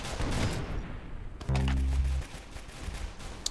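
Gunfire rattles out in a round of the Roblox shooter Arsenal, with a dense, heavy burst of shots in the middle over a continuous bed of game noise.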